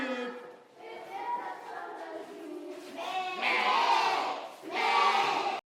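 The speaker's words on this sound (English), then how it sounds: "a sheep." Sheep bleating in a series of wavering, nasal calls, with louder overlapping bleats toward the end, as if several animals are calling together close by.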